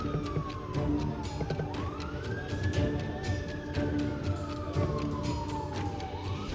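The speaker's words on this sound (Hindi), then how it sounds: "सड़कों पर एम्बुलेंस दौड़ रही है।" Ambulance sirens on the streets of Beirut in the aftermath of the explosion, a wailing tone sweeping slowly up and down over dense street noise and crowd commotion, moderately distant and continuous.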